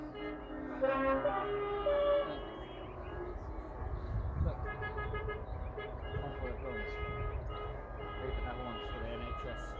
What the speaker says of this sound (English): all going mental, all honking the horns